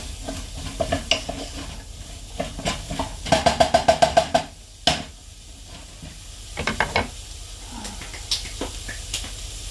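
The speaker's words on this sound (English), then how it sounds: "Get your wooden spoon again and give it a really good stir" Carrots being stirred in a pot with a wooden spoon, giving a series of near scraping and sizzling strokes, with a quick rhythmic burst in the middle and quieter stirring afterward.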